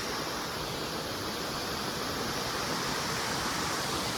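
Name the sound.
Şizir waterfall in Astara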